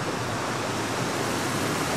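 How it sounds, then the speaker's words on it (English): Steady broadband rush of flowing water at a wooden water wheel for grinding grain in Yancun village, China, a constant even wash with no distinct clanks, fairly close and unbroken. "We come to what probably are reproductions of a water wheel"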